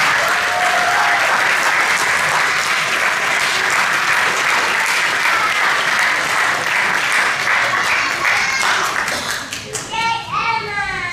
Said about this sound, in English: One more round of applause for our 7th and 8th grade guys.